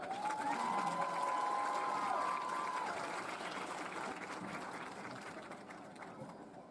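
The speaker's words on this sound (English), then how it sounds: "please give a round of applause for our 2023 homecoming court, and our queen, Jessica Mendoza" Audience applause for the 2023 homecoming court and queen at a Hope vs DeQueen homecoming game, a broad steady wash of clapping and crowd noise that slowly fades, with no talk over it.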